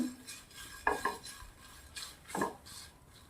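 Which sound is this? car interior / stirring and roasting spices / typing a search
stirring and roasting spices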